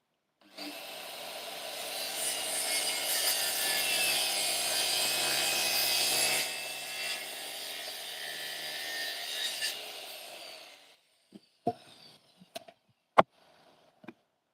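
Power drill driving screws into timber during backyard koi pond building, one long continuous whirring run of about ten seconds, loud and close, followed by several sharp clicks and knocks.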